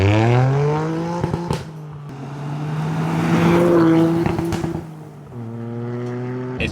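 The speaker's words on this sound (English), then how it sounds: "I love how it pops when you bang rev limiter, because it's a Toyota." A Toyota rally car engine, a Celica GT-Four or GR Corolla, revs loud and close, rising and falling in long strained pulls with a harsh rasping note and brief crackles where it hits the limiter.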